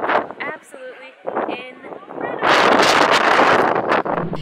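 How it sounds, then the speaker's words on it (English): Strong gusting wind at the Acropolis in Athens buffets the microphone in a loud, roaring rush that takes over after a stretch of talking and voices. "The wind is vicious."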